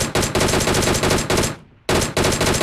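Loud, close automatic gunfire from the video game PUBG comes in rapid bursts, with a brief pause before the firing resumes.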